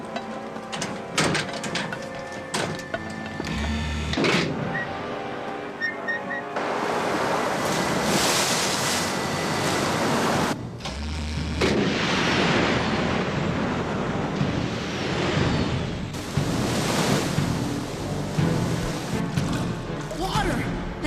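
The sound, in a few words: rushing water flooding in, cartoon sound effect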